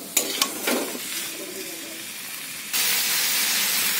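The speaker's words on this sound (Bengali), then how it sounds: "চিকেনটা দিয়ে এবার আমি নাড়বো জিনিসটা" Chicken is stirred and fried in a pan for a restaurant-style rezala, giving a steady, loud sizzling hiss with a few clattering stirs at the start and a surge of frying noise partway through, and no one speaks.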